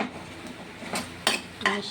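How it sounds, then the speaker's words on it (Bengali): Boiled Maggi noodles are mixed in a metal pan with a spoon, giving a few sharp scrapes and clinks that grow louder toward the end over a low kitchen background, with no talking. "এবার এগুলো ভালো করে"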